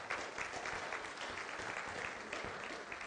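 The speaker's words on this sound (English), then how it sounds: "Give them a big round of applause." A church congregation gives a round of applause during a Sunday service: a sustained, even wash of many hands clapping, fairly quiet and with no clear talk.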